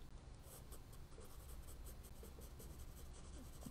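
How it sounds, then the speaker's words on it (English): A 2B pencil drags across paper in a steady, soft scratchy shading stroke, close and quiet, continuing evenly for several seconds with no talk. "I'm still using a 2B pencil."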